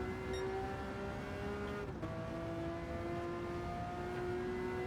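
Race car engine in the Gran Turismo 7 video game, a loud steady whine climbing in pitch through the gears, with a quick upshift around the middle, and no talk.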